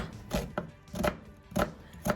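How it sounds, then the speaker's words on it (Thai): A knife chops an onion on a cutting board in a home kitchen, four evenly spaced firm cuts, each a crisp thud, close and clear with no talk. "เริ่มแรกแล้วก็หั่นหอมใหญ่นะคะ"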